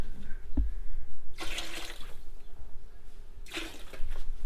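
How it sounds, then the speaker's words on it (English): Plain white vinegar splashes into a pot that is not on the heat, with two brief, soft pouring bursts over a quiet background. "A splash of vinegar."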